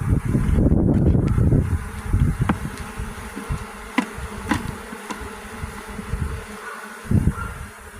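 Honey bees buzz at an open beehive, a loud close drone swelling at first and then settling into a steady hum with some light knocks from handling the hive.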